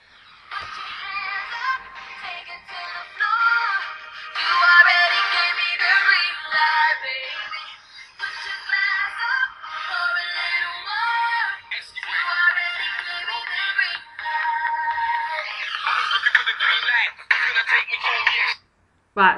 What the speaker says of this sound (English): Right, so that's my ringtone now, and when people ring me, it's really loud.